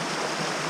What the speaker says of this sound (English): on this small waterfall that's a bit further downstream from the main one